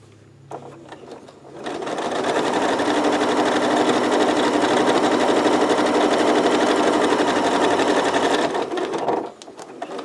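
A sewing machine stitching a fabric zippered makeup pouch, running in one steady loud buzzing burst for several seconds after a few brief starting clicks, then stopping abruptly.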